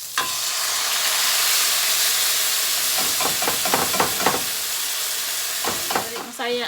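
Garlic, onion and sardines sizzle loudly in hot oil in a pan, a steady broadband hiss with bursts of clattering stirring strokes toward the end.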